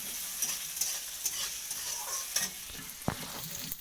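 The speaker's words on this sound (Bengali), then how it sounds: "পেঁয়াজটা খুব ভালো করে লাল লাল করে ভাজা করে" Onions fry in a pan with nigella seeds, a soft steady sizzle with occasional stirring scrapes and a sharp utensil knock near the end, no talking.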